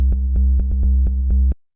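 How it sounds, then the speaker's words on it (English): Sub bass built in Ableton Operator from a square wave run through a low-pass filter, playing a steady deep driving-techno line with short rhythmic pulses and brief ticks, loud and alone, then cutting off abruptly. "This is literally just a square wave going into a low pass filter."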